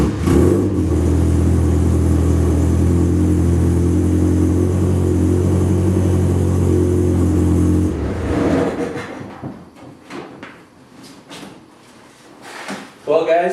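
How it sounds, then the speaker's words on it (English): A British car fitted with a new Monza exhaust system idles steadily and loudly with a deep, even drone for about eight seconds, then shuts off, leaving quieter clatter and a few short knocks and movements up close. "start it up, and check it for leaks."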